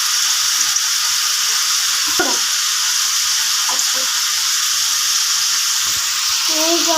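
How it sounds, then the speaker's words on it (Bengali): Chopped onions sizzle and fry in hot oil in a wok, a loud steady hiss running the whole time with a few stirring clinks and a brief spoken word. "এখন এই যে এখানে পেঁয়াজ ঢেলে দিচ্ছি কড়াইতে।"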